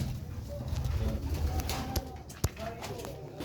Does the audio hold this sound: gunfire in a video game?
no